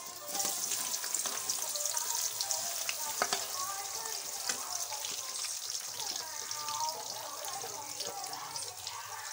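Chopped onions sizzle and crackle steadily in hot oil, close by, with occasional stirring clatter and a faint voice now and then.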